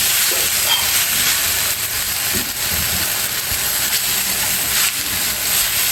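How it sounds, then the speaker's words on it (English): Cold strained noodles hit a hot stir-fry pan, setting off a loud, steady sizzling hiss that runs throughout with faint clatter. "the final step here is just throwing in those cold noodles that we had strained"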